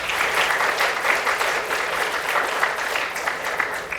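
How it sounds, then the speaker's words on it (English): An audience at an honors conference opening session claps steadily throughout, a dense, even roar of applause from a room full of people. "we applaud them anyway"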